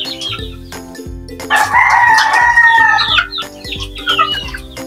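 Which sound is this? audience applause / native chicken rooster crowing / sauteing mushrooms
native chicken rooster crowing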